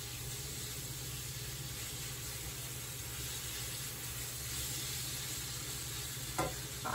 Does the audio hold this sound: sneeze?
no